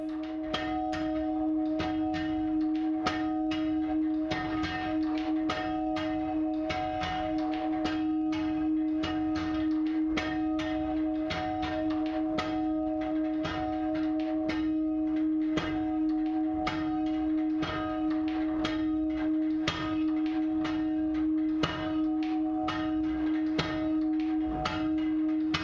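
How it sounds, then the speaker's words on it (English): Church bell being rung down, its clapper striking only one side, giving a long run of regular metallic strikes with a sustained ringing hum beneath, evenly paced and fairly close. "here we see a bell coming down. It starts off at normal speed and gradually gets faster and faster"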